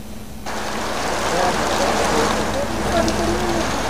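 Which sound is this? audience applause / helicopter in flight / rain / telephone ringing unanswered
rain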